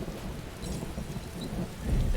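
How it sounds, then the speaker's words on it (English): Thunder rolls through steady rain in the Skyrim video game with the Nordic Souls modpack, a continuous low rumble swelling louder near the end, with no voices. "Listen to that. Thunder."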